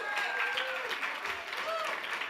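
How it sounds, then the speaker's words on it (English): Audience at a fashion awards ceremony applauds briefly, a soft steady patter of clapping heard from a distance, with voices and a few whoops rising over it. "Round of applause for him."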